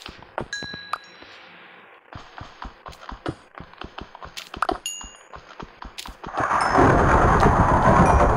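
Rain and thunder in the Minecraft video game: after a series of sharp clinks and thuds, a loud, steady rush of rain sweeps in with a rumbling roll underneath.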